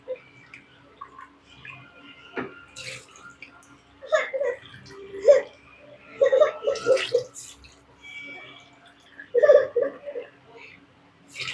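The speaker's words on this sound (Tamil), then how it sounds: "ஸோ 6 கப் ஊற்ற போகிறேன் இப்போது." Water splashes and pours into a rice pot for mutton biryani in uneven bursts while a person talks nearby over a low steady hum.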